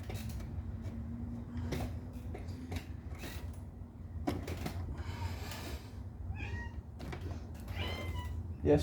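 A house cat meows several times during a break from building a bass guitar in a workshop, the short calls spread across a steady background hum with a few small knocks.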